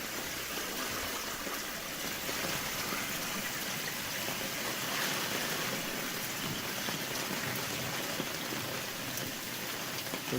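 Water gushes hard from a French drain pump outlet, a loud, continuous rushing splash outdoors with no break across the whole stretch.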